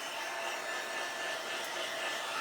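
Hair dryer blowing on the textured surface of a Dollar Tree snowman candy dish being crafted, a faint, steady airy whoosh running alone without a break.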